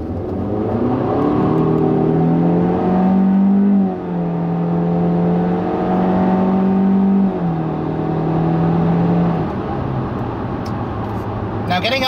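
A 2016 Honda Civic Coupe Touring accelerates up to highway cruising speed, its engine note climbing through several gear steps before settling into a steady drone, while someone talks over it.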